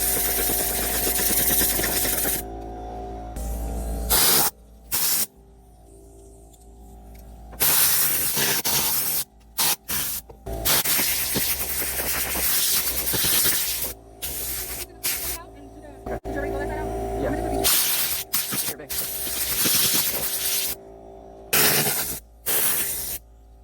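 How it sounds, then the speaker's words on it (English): Repeated bursts of protectant spray hiss in short blasts while detailing a Mitsubishi Outlander, separated by brief pauses, with a steady mechanical hum in the background. "You can spray the premium protectant on there, add some protection"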